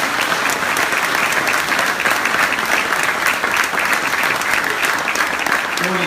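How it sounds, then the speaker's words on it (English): A large hall-of-fame award crowd claps in loud, sustained, even applause that holds steady throughout without a break. "Round of applause there, ladies and"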